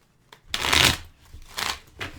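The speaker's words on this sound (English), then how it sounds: "I'm going to shuffle here." Tarot cards being shuffled by hand, close up, in three quick riffling bursts, the first longest, separated by brief pauses.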